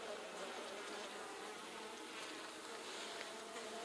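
Bees swarm around an open hive during a frame inspection, a steady, dense buzz filling the air at close range with no voices over it.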